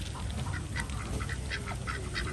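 Ducks being fed at a farm cafe in Chonburi, Thailand, give off a scattering of short quacks and calls over steady outdoor background noise, moderately near.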